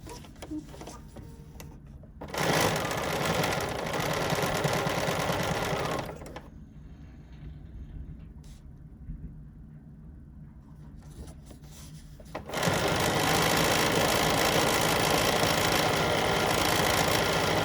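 Bernina sewing machine stitching with an edgestitch foot, two long stretches of steady rapid mechanical whirring separated by a quieter pause with faint handling sounds, close and loud.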